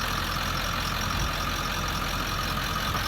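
A 2003 Ford F-250 with the 7.3L Powerstroke turbo diesel idles in a steady, unbroken rumble with a broad mechanical hiss. It stays close and constant for the whole stretch, with no talking.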